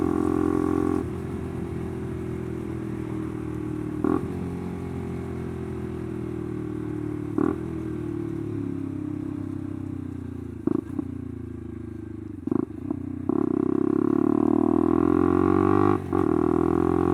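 A motorcycle ridden on a warm, calm day gives a steady, close engine drone that breaks briefly at several gear changes, then swells louder as it accelerates toward the end.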